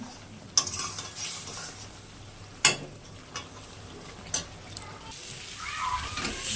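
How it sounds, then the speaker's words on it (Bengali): A spice paste of ginger, green chili and cumin sautés in a pan with a soft continuous sizzle, punctuated by a few distinct clinks and scrapes of a spatula, fairly quiet with little talk. "এবার একটু ভালো করে কষিয়ে নেব।"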